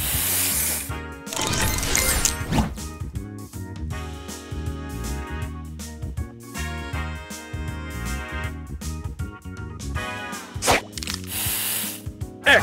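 Spray booster effects from the Match Masters puzzle game, a series of bright hissing bursts and chiming game tones over electronic background music, fairly loud with repeated short sweeps.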